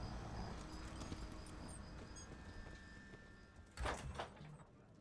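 Horse hooves clip-clop at a steady pace while a rider travels in the video game ESO, quiet and even over a soft ambient bed, with a brief louder rustle near the end.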